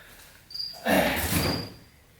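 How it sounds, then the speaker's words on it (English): Steady, nearby chirping of a cricket runs through the clip, with a loud broadband burst like a door slam or knock in the middle and no talk. "I know you guys are probably sick of that cricket."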